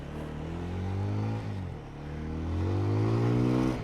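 A TVS Apache RTR 200 motorcycle under way, its engine note climbing, then dropping as the rider shifts into second gear, then rising again. The engine drone is steady and close, with no talking over it.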